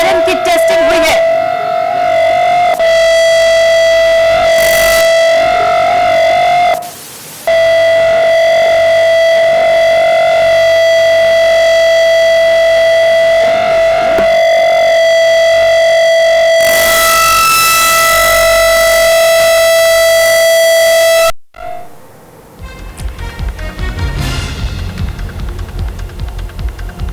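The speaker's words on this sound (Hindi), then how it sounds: "दिल्ली में इमरजेंसी सायरन की टेस्टिंग हुई है।" An emergency civil defense siren test in Delhi sounds loud and sustained, a steady wailing tone with a throbbing hum that briefly cuts out and resumes. The siren then stops abruptly, leaving low background noise.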